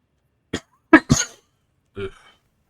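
Several short, sharp coughs come close to the microphone in quick bursts, a pair close together and then a single rougher cough after a pause, with no other sound between them.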